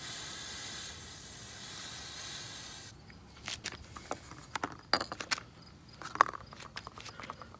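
A steady, close hiss of spray onto a WR250R motorcycle air filter runs for about three seconds, then cuts off, followed by scattered clicks and handling noises.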